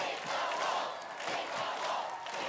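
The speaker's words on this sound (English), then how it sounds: "The crowd are on their feet, urging her on." A crowd cheers and roars at an Australian Ninja Warrior competition as a competitor tackles the 4.2-metre wall, a continuous wash of shouting voices swelling in waves.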